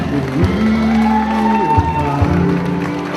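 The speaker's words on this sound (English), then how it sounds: "Nice round of applause for him, ladies and gentlemen." An audience applauds and cheers for a performer at a live show, a loud close wash of clapping and whoops mixed with voices and music.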